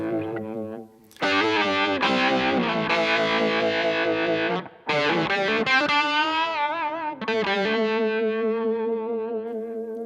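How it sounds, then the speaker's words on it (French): Electric guitar with amp-saturated distortion, reverb and added chorus from a Line 6 HD 500X in the amp's effects loop, playing loud sustained chords and bends with brief pauses between phrases. "Je rajoute un chorus."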